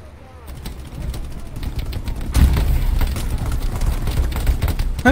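Gunfire in the video game Hell Let Loose, a sniper shooting from a house window: scattered cracking shots under a steady battlefield rumble, with a louder, heavier burst about halfway through.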